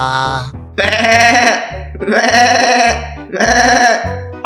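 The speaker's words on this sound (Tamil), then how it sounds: "நம்ம காட்டுக்குள்ள ஏதோ ஒன்று கத்துது என்னன்னு போய் பார்ப்போம் அச்சச்சோ பாவம் இந்த ஆட்டுக்குட்டி" A young lamb or goat kid bleats three times in a row, loud and close, each cry long and wavering, with brief pauses between them.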